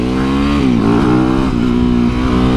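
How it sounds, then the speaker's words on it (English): A dirt bike's engine revs loudly and steadily while riding, its close droning note rising and dipping slightly with throttle changes. "Having a good old time on my rocket-powered dirt mountain bike."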